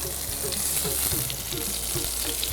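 Garlic browning in oil with halved tomatoes placed cut side down in the pan, giving a steady, close sizzle with small crackles and occasional stirring scrapes, no talking.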